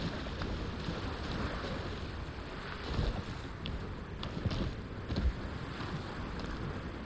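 Water lapping gently at a shore in the game Enotria, a soft, steady wash with faint wind-like hiss and a few small swells, low in level with no voices.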